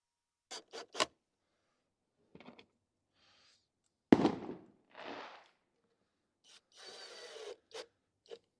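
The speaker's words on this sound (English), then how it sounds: "That wasn't the engine, that was the fireworks." Fireworks going off near a garage where a wrecked Mercedes A-Class is being rebuilt, heard as several sharp separate bangs and crackling bursts, one loud boom followed by a longer fizzing crackle, with quiet gaps between.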